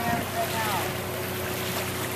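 A small fishing boat's motor drones on open water, steady and close, mixed with wind buffeting the microphone and the wash of water, with a few faint high tones drifting over it.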